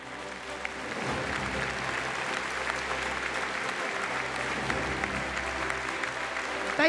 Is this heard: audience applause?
yes